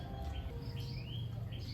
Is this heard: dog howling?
no